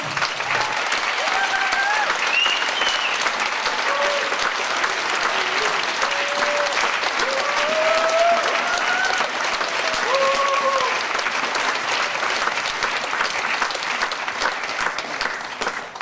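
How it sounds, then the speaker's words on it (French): An audience at a writing award ceremony applauds loudly and continuously, a sustained dense clapping with scattered whistles or cheers riding over it, with no break from start to finish. "Merci d'applaudir encore une fois de plus notre animateur radio préféré, Raymond Valls."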